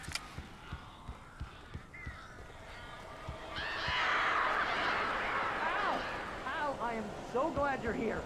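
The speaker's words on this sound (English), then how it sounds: "These birds are weird." Strange birds cawing inside a cabin in the video game Alan Wake, harsh repeated calls rising over a rushing ambient bed in the second half, with scattered clicks earlier and talk around them.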